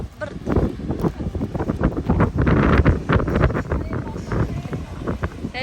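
Cold wind at a beach buffets the microphone in loud, gusty rumbles that rise and fall over several seconds, with no speech.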